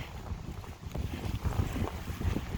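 Strong wind in a snowstorm in northern Germany, gusty buffeting roar with rough low rumbles hitting the microphone, steady and close throughout with no speech.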